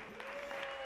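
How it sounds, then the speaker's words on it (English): Brief burst of audience applause for a volunteer at a ventriloquist show, steady clapping filling the short moment with no talk over it. "Come on, give him a cheer."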